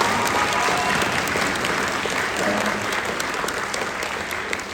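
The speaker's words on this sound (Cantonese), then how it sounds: "大家要俾少少掌聲佢" Wedding guests at a decorated reception venue break into steady applause, a bright, busy clatter of many hands that holds strong and then eases slightly toward the end.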